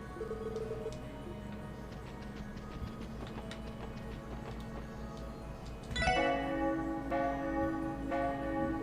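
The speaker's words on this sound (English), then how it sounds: "First you ring the bell," In the video game Trails to Azure, a bell rings once with a bright struck onset and a resonant tone that hangs and rings on, over a soft ticking background with no speech.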